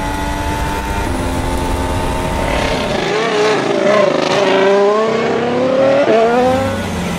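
A 2016 Formula 1 car with a V6 engine roars loudly as it passes, its whining pitch rising and falling through gear changes while a trackside crowd and ambient noise fill the background.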